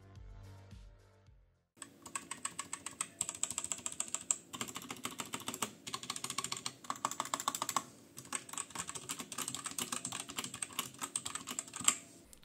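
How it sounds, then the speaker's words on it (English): Continuous typing on a cheap Temu keyboard modded with lube and extra padding, a dense run of close, muted key clacks after a short quiet lead-in. "I have actually modded this keyboard a little bit for the sound test that's about to come, just with a little bit of lube and extra padding"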